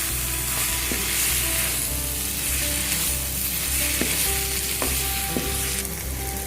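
Spices and chicken fry in a hot pot for chicken yakhni pulao, a steady close sizzle with occasional scrapes and clinks of a spoon stirring them, no talking.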